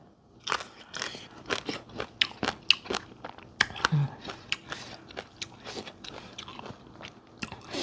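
Crisp fresh vegetables soaked in cold water are bitten and crunched close up, a quick series of sharp crunches and chewing sounds with faint voices now and then.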